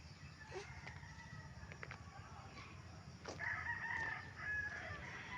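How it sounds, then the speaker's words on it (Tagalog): Chickens and a rooster in a rural yard near mango trees in Bagacay, Ozamiz City, Philippines, heard faintly at a distance, with a couple of crows and clucks over a steady outdoor background. "Daghan lang manok diri oh."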